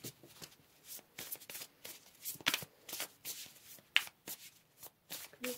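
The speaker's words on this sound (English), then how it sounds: "Let's go ahead and pull some more cards." Tarot cards are shuffled close up with quiet, rapid riffling bursts and soft slaps as cards are handled and pulled, with no talk.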